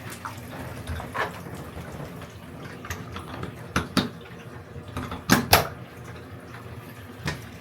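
Water runs from a bathtub tap while a toddler is bathed, a steady close splashing stream broken by several louder gushes and knocks.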